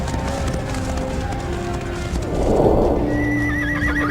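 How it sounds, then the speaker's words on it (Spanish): Horses neigh and whinny over galloping hooves in a battle scene, with a loud, shrill neigh standing out near the end against a steady background roar. "Los humanos se enfrentan en batallas a caballo por primera vez."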